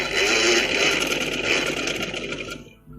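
Sewing machine running steadily as it stitches a trim strip (patti) along the back neck of a ladies' kameez, a close continuous mechanical whir that stops abruptly near the end.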